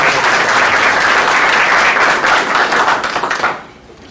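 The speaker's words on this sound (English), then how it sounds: "I think we have to give everyone here a round of applause" Applause from a classroom group of teachers, dense steady clapping for about three seconds that thins and fades out toward the end.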